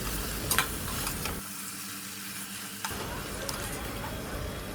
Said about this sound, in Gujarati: ધીમા ગેસની ફ્લેમ પર 2 થી 3 મિનિટ ઢાંકીને સંતળાવા દેવાનું છે